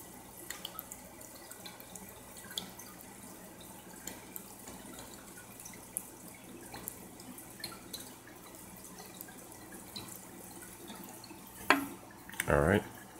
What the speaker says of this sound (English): Just shake it up for 15 seconds.